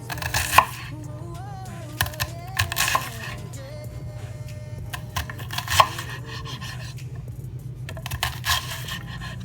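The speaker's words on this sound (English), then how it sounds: "now when we slice it, it should turn into little cubes" A knife slicing shrimp into small cubes on a cutting board, a series of crisp, close chopping taps in irregular clusters, with a faint steady hum in the background.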